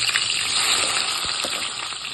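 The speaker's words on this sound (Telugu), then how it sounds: "ఆనియన్స్ బాగా రోస్ట్ కానివ్వండి, ఒక సిమ్లో పెట్టుకోండి కాసేపు" Onions roast in a pan over a low flame with a steady, close sizzle and crackle, broken by a few faint scraping stir sounds, with no talking.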